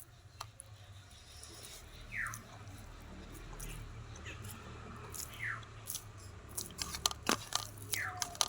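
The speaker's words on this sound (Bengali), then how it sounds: "বসে গেছি খেতে" Someone eating a home-cooked Bengali meal of rice mashed with gima potatoes, shrimp curry, cauliflower-potato curry and boiled dal, with soft intermittent chewing and crunching close by, low and steady under faint background noise.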